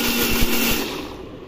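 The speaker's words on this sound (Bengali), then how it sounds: "এই যে পেঁয়াজ ব্লেন্ডার করব" A kitchen blender grinding onion runs loud and steady close by, its motor whine holding for about a second before starting to fade.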